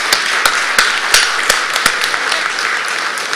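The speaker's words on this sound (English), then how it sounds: "Can we have a round of applause for our presenters," An audience claps for presenters at the end of a session at an asset-management event, with sharp, spaced individual claps standing out over a steady bed of applause from a room crowd.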